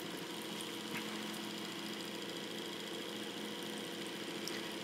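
An antique Knapp reversible electric motor runs steadily, giving off a faint, even mechanical hum and whir that holds constant throughout with no talking.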